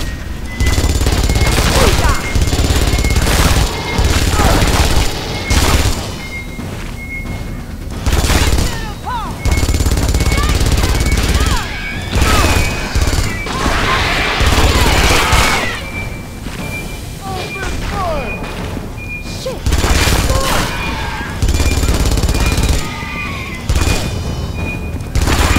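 Smart gun fire in the Aliens vs. Predator game: dense, loud automatic bursts repeat across the whole stretch with booming impacts, while players talk over the shooting.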